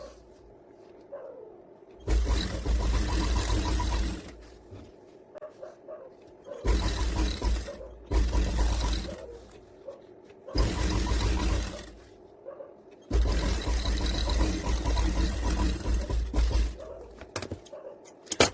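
A sewing machine stitches farshi salwar fabric in several bursts of rapid, close mechanical whirring and thumping, separated by short pauses with faint background sounds.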